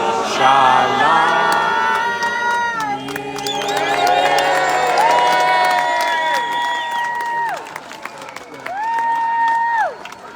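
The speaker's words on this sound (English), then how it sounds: "Crowd appreciation there for Tammy." Crowd at an outdoor rally against antisemitism in Leeds cheering, whooping and applauding loudly and continuously, with sung or sustained voices rising through the noise and fading toward the end.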